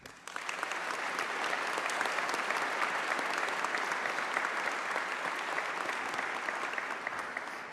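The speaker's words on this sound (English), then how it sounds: "Please join me in a round of applause" Applause from the audience at a Peabody Fire Department swearing-in ceremony, a steady, dense clapping that rises quickly and holds loud and even from start to finish with no talking over it.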